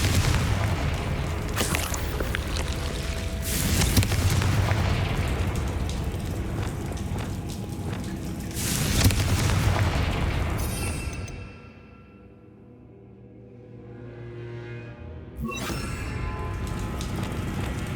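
Spell explosions in the Hogwarts Legacy video game roar out as heavy, booming blasts with crackling debris, near and loud, then die away into a brief lull before another burst erupts.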